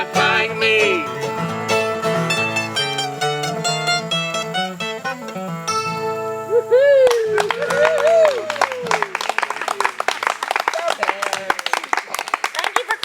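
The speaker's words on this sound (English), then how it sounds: "Thank you for clapping for him" An audience claps along by a campfire gathering, quick rhythmic claps rising over live music with singing, growing busier toward the end.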